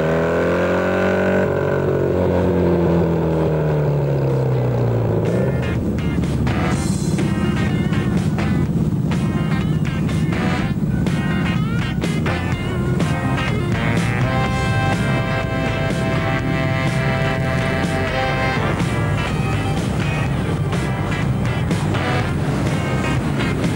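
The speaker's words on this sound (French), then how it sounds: "Un grand moment de musique mécanique rythmé par les gros flat twin qu'on vous laisse déguster" Big BMW flat-twin motorcycle engines rumble continuously at a classic bike gathering, a dense mechanical drone with revving swells and overlapping bikes, loud and close throughout.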